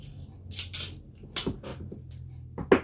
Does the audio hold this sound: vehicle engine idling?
no